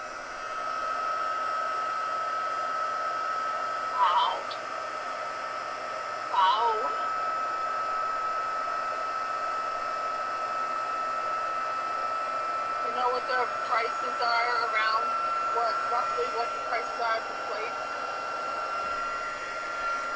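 A craft heat gun heat-setting embossing powder gives a steady, even whooshing blow that runs the whole time at moderate level. A voice speaks faintly in places under the airflow.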